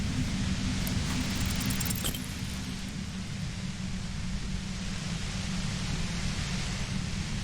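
Overwhelming white noise from a compressor in the video game Disco Elysium forms a dense, steady, unbroken hiss that stays loud throughout.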